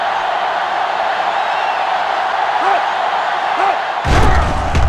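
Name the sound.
stadium crowd roaring in NCAA 06 football video game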